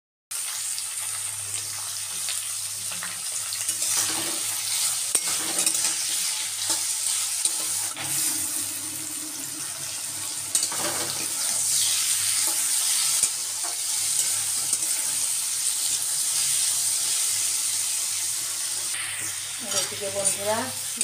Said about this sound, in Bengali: এদিকে বন্ধুরা মাংস কষাচ্ছি